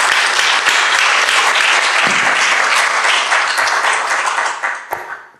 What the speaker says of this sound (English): How about a round of applause for all 5 speakers on this?